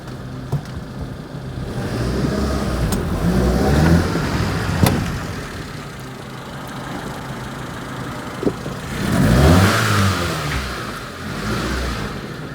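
A Proton Satria car engine runs steadily with an exhaust leak blowing, a continuous mid-level hum that swells briefly around the middle and again near the end, with no talk over it.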